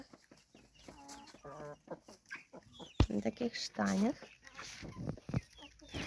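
Roosters and guinea fowl call and cluck together, chattering and squawking nearby, with someone speaking briefly over them.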